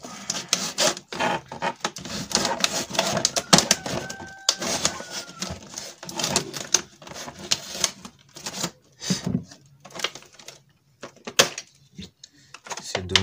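Sealed plastic packaging of a hot glue gun being torn and opened, with busy crinkling, rubbing and ripping sounds in irregular bursts close to the microphone and no talk.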